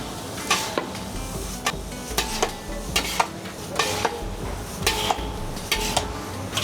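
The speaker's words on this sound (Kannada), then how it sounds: "ಈ ಮಂಡಕ್ಕಿ ಕಲಿಸ್ತೇನೆ ಸರ್." A spoon scrapes and clatters against a metal vessel as puffed rice (mandakki) is mixed with a curry-leaf tempering for Davanagere-style nargis mandakki, in sharp, irregular knocks repeating every half second or so.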